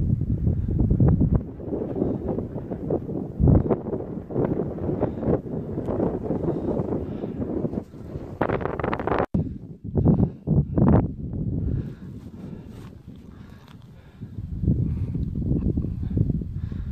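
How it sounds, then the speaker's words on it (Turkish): Gusty wind buffets the microphone on a cool, windy mountainside dotted with stunted pine trees, in rumbling low surges that swell and drop with a few sharp buffets midway, with no talk. "Hava serin, rüzgarlı."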